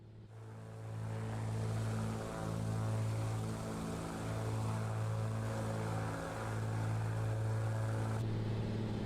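The propeller engine of a Bonanza aircraft in a flight simulator drones steadily with a strong low hum, its pitch wavering slightly as it holds a continuous tone.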